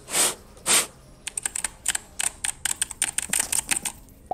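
Rapid, uneven keystrokes clatter on a gaming computer keyboard, close and loud, after two longer scraping rustles near the start, with no talk.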